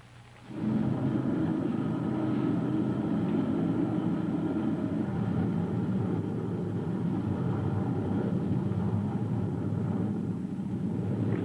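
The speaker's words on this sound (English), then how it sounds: "Sounded like a jet plane." A steady, broad roar of a landing jet plane starts abruptly and holds for several seconds at moderate distance, with no voices.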